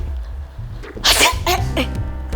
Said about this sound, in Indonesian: Jangan bersin di sini dong.